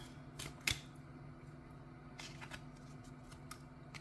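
Soft riffling and flicking of a deck of playing cards being shuffled for a card reading, a sharp snap early on, then quieter scattered card sounds over a low steady hum.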